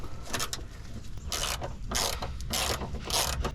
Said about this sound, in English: just gotta get a socket to take that off